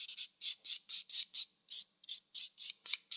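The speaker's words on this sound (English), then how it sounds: "I'm getting this filing out of the way before I do the rose" A nail file rasps back and forth across a gel nail in quick, regular bursts, each stroke a short high scratchy sweep, close and clear with no talking.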